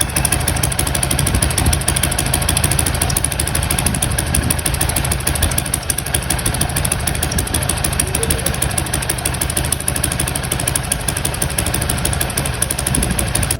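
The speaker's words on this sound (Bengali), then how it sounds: "এই গরমের মধ্যে টেপিটের সাউন্ডটা একটু 19-20 হয়ে যাওয়া এটা অস্বাভাবিক কিছু" A motorcycle engine idles steadily up close, with a fast, even ticking tappet clatter riding over the low rumble throughout.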